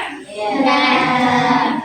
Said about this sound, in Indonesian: marilah kita tepuk fokus dulu ya anak-anak